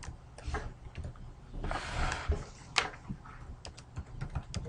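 Someone typing a password on a computer keyboard while logging into Google Drive in a browser: quick, soft, irregular key clicks close by, with a brief burst of faster presses midway.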